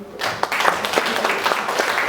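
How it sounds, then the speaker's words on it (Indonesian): Audience applause after a speech at a school meeting on positive culture, steady clapping from a group rising quickly after a brief quiet start and continuing evenly. "Boleh diberikan tepuk tangan."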